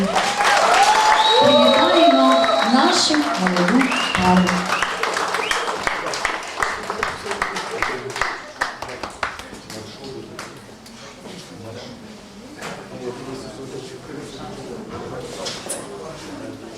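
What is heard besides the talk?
wedding guests applauding the newlyweds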